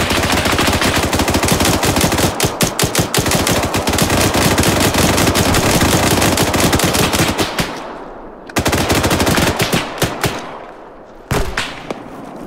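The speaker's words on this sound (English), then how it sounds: "It's a machine gun." Light machine gun fire in the military combat game Arma 3, sustained loud bursts of rapid automatic shots with brief pauses, near and dense, broken off twice before resuming.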